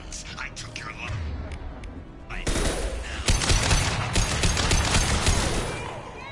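Gunfire in Mass Effect 2, a dense, loud burst of rapid shots and impacts that fills the second half, after a quieter stretch of background combat noise and a brief voice.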